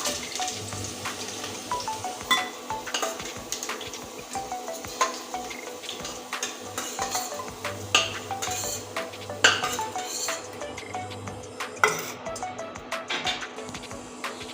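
Metal utensils clatter and scrape against a pan as fried potatoes are lifted out in a home kitchen cooking chicken kosha, with scattered sharp clinks over a faint sizzle and steady background hum; no talking.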